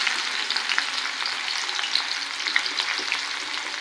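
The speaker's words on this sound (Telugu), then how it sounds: "నూనె వేడైంది. ఇప్పుడు అందులో ఆనియన్స్ వేసుకోవాలి." Onions sizzle and fry steadily in hot oil for a Guntur gongura curry, a dense continuous crackle with small pops throughout, close and moderately loud, with no talking.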